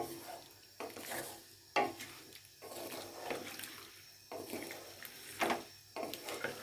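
Spices, crushed chilli and turmeric, are stirred into potatoes in a pan in a series of scraping, sizzling strokes with short pauses between, close and moderately quiet.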